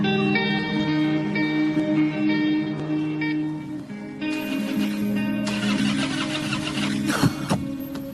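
A car engine cranks over and over without catching, a rhythmic whirring churn with a few bursts and clunks, fairly close and unaccompanied by speech.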